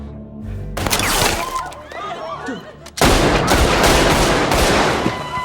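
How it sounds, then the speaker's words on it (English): A hail of gunfire erupts in a film ambush scene, a dense loud burst of shots and cracks that breaks out abruptly and continues without pause. "they are instantly ambushed by a hail of gunfire from the girl's father"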